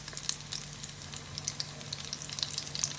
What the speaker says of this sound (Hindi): मैं इसी तरह से करके सारे फ्राई कर लेती हूँ।